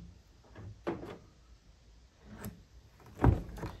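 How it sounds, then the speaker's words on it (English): A key turns in the driver door lock of a Volkswagen Atlas, used because the remote fob is broken or its battery is dead. A few soft mechanical clicks come close up, then a louder clunk of the latch near the end. "Now we'll use this key to unlock this door."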